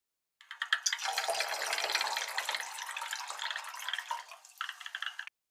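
Water and concentrated nitric acid poured into a lab container, a steady close splashing pour lasting several seconds that breaks into drips and trickles at the end.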